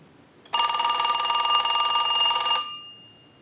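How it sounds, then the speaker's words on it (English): A Western Electric Trimline telephone's bell rings in one steady electronic trill for about two seconds under repair testing, loud and close, then cuts off and decays, with no talking. "Now what we want to do is we want to use the analyzer, and we'll ring the unit."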